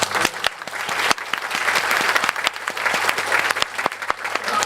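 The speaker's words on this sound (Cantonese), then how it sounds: "咁我哋而家可以首先用熱烈嘅掌聲歡迎。" A hall audience at a Hong Kong cultural forum gives warm applause to welcome a speaker, with dense, steady clapping from many hands for several seconds, close and loud.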